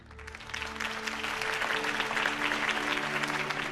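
Crowd applause in the video game Batman: The Telltale Series swells after a campaign speech, a dense cheering clap that builds quickly and holds steady at moderate loudness.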